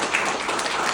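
A brief, dense wash of audience applause at a product presentation, steady clapping from many hands lasting about a second.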